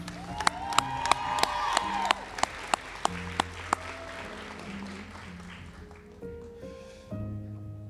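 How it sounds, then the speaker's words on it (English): Audience applause for a group of graduates at a nursing school white coat ceremony, a steady crowd clapping with sharp, regular microphone thumps on top, tapering off as music comes in near the end. "A round of applause for this great group."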